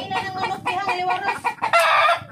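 Chickens cluck repeatedly nearby in uneven bursts, with a louder, sustained squawking call near the end.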